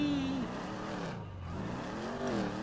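An in-game car engine revs in GTA 5, a rising and falling motor drone that dips briefly mid-clip and climbs again, steady and fairly quiet throughout.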